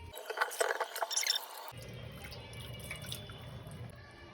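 Cut potatoes for French fries are rinsed in water, with close dripping and splashing first, then a softer running-water wash and swishing in a vessel.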